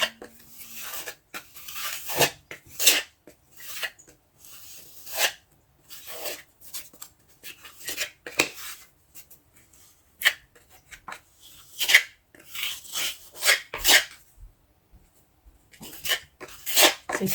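Pro Glow ready-mix all-purpose filler is scraped into gaps with a filling knife, giving short rasping scrapes and dabs in an irregular rhythm, close and fairly quiet, with brief pauses between strokes.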